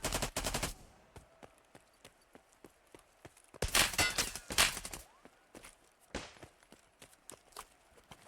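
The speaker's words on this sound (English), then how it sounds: "His nades are just causing chaos right now." Grenade explosions in the Hunt video game during a competitive tournament match: a loud burst at the start, then a longer run of heavy blasts midway and a shorter one after, with scattered sharp cracks and quiet gaps between.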